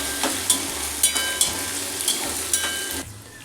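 Sliced onions and red chillies sizzle steadily in a hot pan, with soft periodic scrapes of stirring over a constant frying hiss that drops away near the end.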